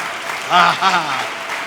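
Steady applause from a church congregation fills the room while a voice speaks briefly over the clapping.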